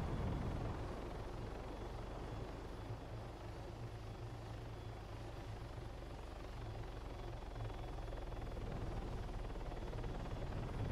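Steady, continuous helicopter rotor and turbine drone from an ARMA 3 video game, a loud broadband whir that holds unchanged for the whole stretch with no talking over it.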